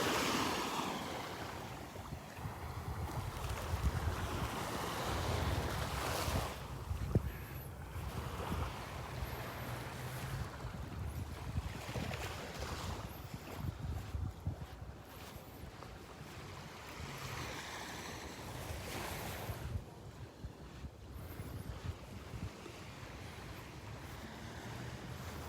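Breeze and surf at Delnor-Wiggins beach, with soft rolling waves washing in under steady wind buffeting the microphone and occasional stronger gusts, fairly quiet overall.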